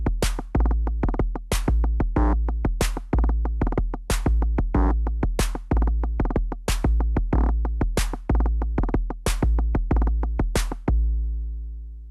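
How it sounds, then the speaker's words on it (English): Korg Volca Drum playing a programmed rim shot pattern with the slice setting at 16, crisp electronic hits with sharp high clicks repeating in a steady loop, loud and dry, ending with a ringing decay. "So now we have the rim shot selected."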